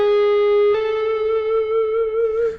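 An electric guitar plays a pentatonic lick walking down from B, with sustained clean notes changing pitch with soft attacks, heard alone with some effects.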